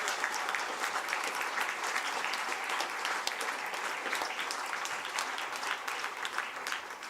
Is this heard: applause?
yes